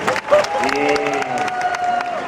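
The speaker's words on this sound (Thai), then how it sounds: "ขอเสียงปรบมือกับความภาคภูมิใจของชาวเกษตร" A crowd at a Kasetsart University open house applauds and cheers a student-built electric bicycle, steady clapping close by with a voice carrying over it.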